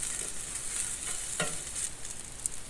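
Onions and French fries cook on a griddle with a soft, steady hiss of frying, broken once by a brief scrape, fairly faint and without voices.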